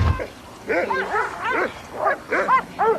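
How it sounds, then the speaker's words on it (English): A dog lets out a series of short, yelping barks and whines at a moderate distance, repeating at uneven intervals in an otherwise quiet room. "That dog never gonna shut up."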